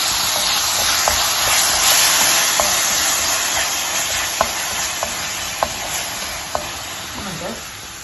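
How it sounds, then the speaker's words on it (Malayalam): Loud, hissing sizzle of a ground spice paste frying in a pan for beef curry, with a utensil clicking against the pan several times as it is stirred. "ഈ അരപ്പ് നമുക്ക് നല്ലതുപോലെ എണ്ണ തെളിയുന്നിടം വരെ ഇളക്കി കൊടുത്ത് മൂപ്പിക്കാം."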